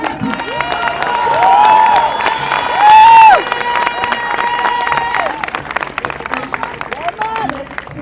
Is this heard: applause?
yes